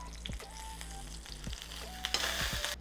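Fish sizzles in a pan over medium-low heat with a steady, close frying hiss, low rumbles and a few soft scrapes, swelling louder toward the end with no voices.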